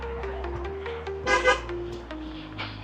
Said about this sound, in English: Somebody honked at me.